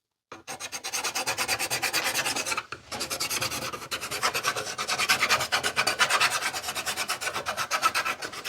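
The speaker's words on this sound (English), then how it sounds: "I got this white pencil and I'm going to draw some white lines all over this" A white pencil is dragged across wood in quick, repeated rasping strokes, close and scratchy, with one short pause partway through and no speech.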